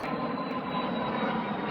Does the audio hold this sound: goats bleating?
no